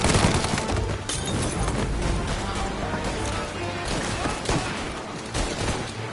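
Dense, chaotic gunfire and crashing impacts fill a shootout in the Mafia: Definitive Edition video game, with loud overlapping bursts throughout and no clear pause.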